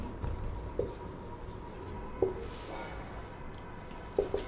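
Marker or chalk writing on a board during a maths lesson, heard as faint scratchy strokes with a few brief sharper taps over a steady low room hiss, no voices.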